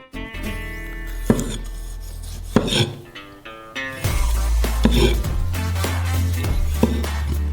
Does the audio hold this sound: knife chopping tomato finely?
yes